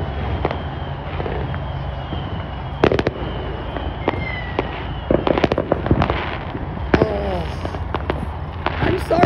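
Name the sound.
Fourth of July fireworks exploding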